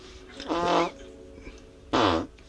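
A voice imitates a fart twice, each a short buzzing, sputtering blurt with a clear pause between, close up and loud.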